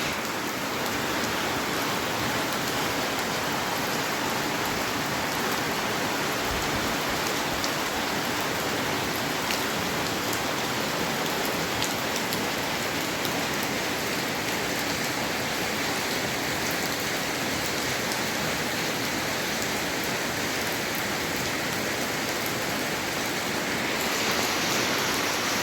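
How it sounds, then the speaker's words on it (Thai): Heavy rain falls across rice fields brimming with water, a continuous broadband downpour hiss staying level and close the whole time, unbroken by talk. "ดีกว่าฝนตกคือไงอากาศดีฝนตกเลย"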